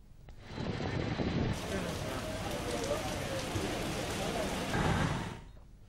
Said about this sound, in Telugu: ఉభయ గోదావరి జిల్లాలు భారీ వర్షంతో తడిసి ముద్దయ్యాయి